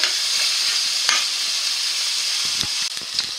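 Chopped onions sizzle and fry steadily in a pan, a continuous close hiss with a few faint stirring clicks and scrapes toward the end, as garlic is about to go in.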